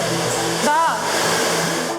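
A hair dryer blows steadily and loudly while hair is styled at a hairdressing competition, a brief voice breaking in partway through.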